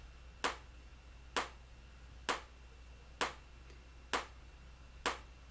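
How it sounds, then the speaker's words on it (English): Six crisp clap samples from the free SynthStation VST plugin ring out alone at an even, slow pace, each a sharp, short hit with a quick decay over a faint hum. "this is what the claps sound like."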